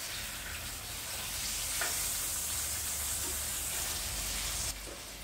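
Filet mignon sizzles in a pan, a steady, moderately quiet fry with a faint crackling hiss, briefly softening near the end, no voices.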